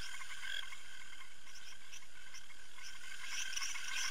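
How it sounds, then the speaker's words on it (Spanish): Frogs call in a Costa Rican night chorus, a dense layer of high, overlapping chirps and trills with brighter bursts toward the end, steady and fairly near with no voices. "En Costa Rica hay más de 100 especies de ranas"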